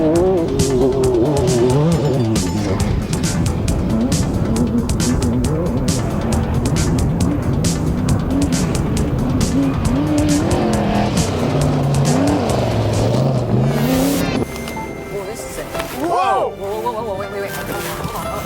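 Off-road race car competing on a twisting race course, engine roaring continuously with revving and tire squeal, loud and close, with music or voices mixed in and a sudden change near the end.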